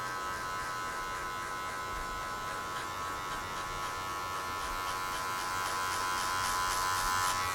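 An electric hair clipper buzzes steadily and close during a fade haircut, a constant high whine holding even throughout, with no talk over it.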